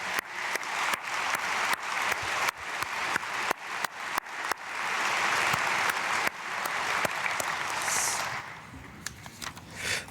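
Church congregation clapping at an early-morning prayer service, sharp separate claps building into a dense, sustained burst of applause that thins out toward the end, with no talk heard.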